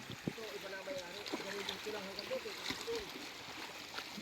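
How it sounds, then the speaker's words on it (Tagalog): Water in a small creek running through farm property, a steady broadband rush with trickling detail, fairly close and moderate, with a voice speaking over parts of it. "ito yung sapa, oh."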